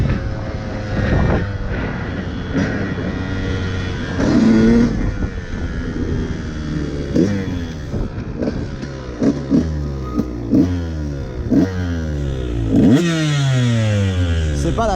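A KTM 125 SX two-stroke dirt bike engine revs up and down repeatedly on a road ride, with rising and falling pitch sweeps through gear changes, loud and close throughout.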